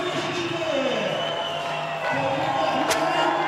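Crowd at a strongman competition cheers and roars in a dense continuous wash, with a commentator talking over it and a sharp whistle near the end.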